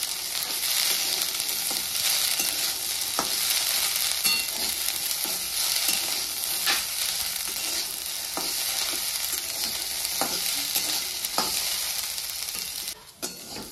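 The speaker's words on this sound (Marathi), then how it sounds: "तर वाटाण्याच्या शेंगा आपल्याला चांगल्या भाजून घ्यायच्या" Pea pods dry-roasting in a pan for a Marathi green pea chutney give a steady close sizzle with soft scraping stir strokes throughout.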